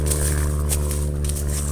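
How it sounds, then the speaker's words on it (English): Propeller airplane droning overhead during a metal-detecting hunt in Virginia, a loud steady engine hum with strong layered tones, continuous throughout and heard alone. "Go on, airplane."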